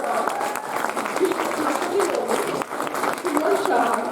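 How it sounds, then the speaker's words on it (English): An audience applauds as committee members are welcomed on stage at a community event inauguration, clapping continuous and fairly loud while a voice talks through it, with some crowd noise mixed in. "please welcome on stage, with a huge round of applause, Riddhi Chakraborty,"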